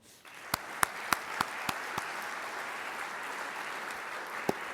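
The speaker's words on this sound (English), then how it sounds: "Another round of applause." Audience applause at a talk on innovation and entrepreneurship rises into a sustained wash of many hands, with a few sharp, close individual claps standing out near the start and again at the end.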